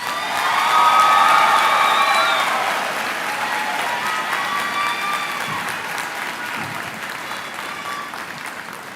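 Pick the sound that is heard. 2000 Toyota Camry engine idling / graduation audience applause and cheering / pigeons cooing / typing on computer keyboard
graduation audience applause and cheering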